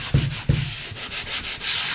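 A sanding block rubs against a wooden cabinet door in quick back-and-forth strokes, close up, with two firmer scrapes at the start and softer passes after.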